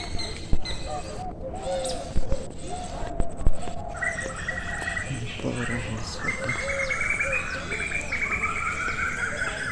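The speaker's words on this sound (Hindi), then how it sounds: "चिड़िया पक्षी सब बोल रहे हैं" Morning birdsong near a cooperative with flowers and cows: bright chirps and tweets scattered through the clip, some clear and close, over steady outdoor background noise, with a horse-like whinny cry partway through.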